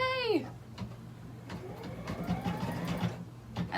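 A Harmony Hedgie embroidery machine stitching eyelashes, with a faint rapid mechanical whirr and stitching hum, fairly quiet, after a brief rising electronic tone at the start.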